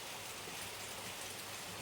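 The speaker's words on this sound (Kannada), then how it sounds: "ಒಳ್ಳೆ ಮಳೆ ಬರ್ತಾ ಉಂಟು." Steady rain falling outdoors, a continuous even hiss of drops on surfaces with no voices, uniform and moderately loud throughout.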